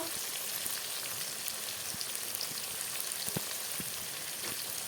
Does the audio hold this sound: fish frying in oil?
yes